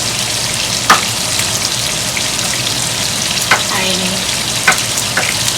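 Onion and garlic frying in a pan for a pasta and sausage dish, a steady close sizzle with a few sharp clinks and stirring scrapes over it.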